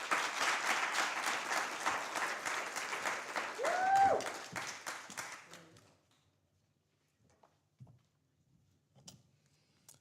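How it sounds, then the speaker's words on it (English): Audience applause at a moot court competition, dense clapping for about six seconds that quickly dies away into near silence with a few scattered taps and small sounds. "Please give us a round of applause."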